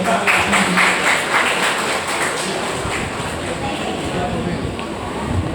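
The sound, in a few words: applause at graduation ceremony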